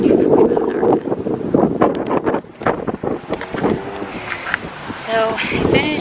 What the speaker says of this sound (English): And it is so freaking windy.